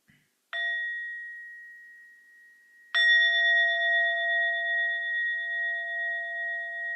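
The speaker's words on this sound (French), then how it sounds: "On va écouter un son de la cloche pour nous aider de relier avec notre respiration." Mindfulness bell struck to guide breathing, a small click then two clear metallic rings, the second louder and sustaining with a slow wavering hum as it fades, alone in silence.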